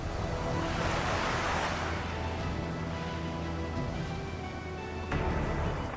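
Sea waves wash continuously onto the shore at Dwarka, a loud, broad roar of surf with wind, swelling slightly near the end.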